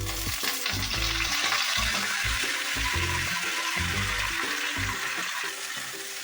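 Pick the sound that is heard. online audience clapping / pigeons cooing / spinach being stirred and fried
spinach being stirred and fried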